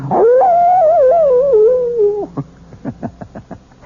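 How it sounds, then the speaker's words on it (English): A wolf gives a single long, loud, wavering howl close by that lasts about two seconds. A quick run of short yips and whimpers follows. "the wolf is not only a fascinating creature, he also does something wonderful for all lovers of mystery stories. He makes this chilling sound."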